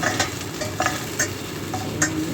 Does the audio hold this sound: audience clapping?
no